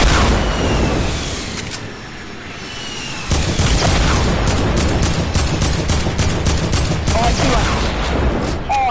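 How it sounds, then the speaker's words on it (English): Rocket launcher explosions in a video game, loud repeated booms and blasts forming a dense barrage, with gunfire bursts layered throughout. "Oh, rocket launcher."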